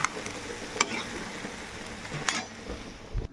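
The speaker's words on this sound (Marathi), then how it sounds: "कारला आता ह्याच्यामध्ये टाकून द्यायचं. मस्तपैकी हलवून काढायचं." Bitter gourd being stir-fried in a pan for a home-style curry, giving a soft steady sizzle broken by a few sharp scrapes and knocks of a spoon against the pan, with no talking.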